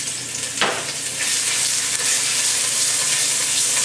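A garlic clove browns in a pan with a loud, steady crackling sizzle and a single sharp clink early on, close by and with no talking.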